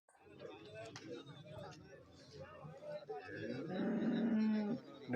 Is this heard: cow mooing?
yes